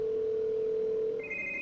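A telephone in the horror game The Evil Within gives a steady electronic tone that shifts to a higher pitch near the end, clear and alone without voices.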